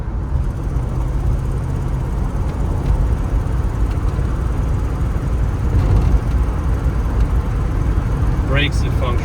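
A 1991 Jeep Grand Wagoneer drives along, its engine and road noise a steady low rumble in the cabin, with a voice briefly heard at the end.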